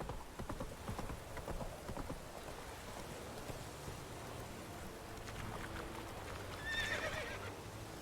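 Roach the horse in The Witcher trots and gallops with a rapid, even clip-clop of hooves at moderate distance, and near the end a short whinny rises over a soft rain-like wash.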